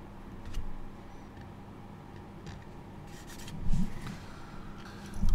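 A scribing tool is drawn across the seam of a 1/48 Airfix Fairey Gannet plastic model kit, making quiet scratchy rubbing strokes with a few louder scrapes near the end, close and with no talk.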